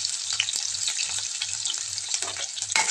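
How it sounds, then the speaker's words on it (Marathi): Onion frying in a kadai after mustard seeds and cumin, a loud, close, steady sizzle with crackling pops and occasional stirring scrapes, no talk. "कांदा छान तळून घ्यायचा आहे आपल्याला।"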